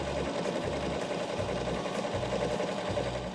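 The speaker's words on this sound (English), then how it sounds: "going to use a simple straight stitch on your sewing machine" Sewing machine running a simple straight stitch while patchwork coaster fabric is sewn together: a steady mechanical whir with pulsing low thumps in bursts of roughly half a second, close and loud, with no talk.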